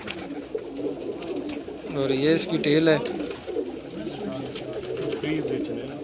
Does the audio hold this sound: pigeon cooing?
yes